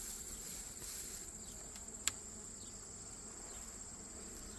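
Honey bees buzz in a hive during an August honey harvest, a faint, thin, continuous hum with a steady high whine and one brief sharp tick, heard alone without talk.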